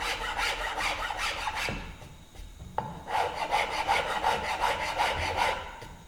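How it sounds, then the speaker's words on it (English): Wood being shaped by hand with a rasp and then a file, giving steady rhythmic rasping strokes, close and fairly loud, with a short pause midway before the scraping resumes. "So if I do my shaping with my rasp, I'm going to want to refine that with a file"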